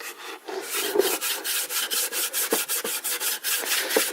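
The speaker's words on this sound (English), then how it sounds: "I'm just rubbing over the area, and all the little areas that we haven't been able to get in" Someone rubs over a wooden sewing machine cabinet drawer during restoration, making quick, rhythmic rasping strokes close up that repeat evenly with no talking.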